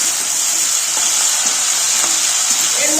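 Malabar spinach seeds being stirred and fried in a pan with mixed vegetables and prawns, a steady close sizzle with scraping stir sounds throughout.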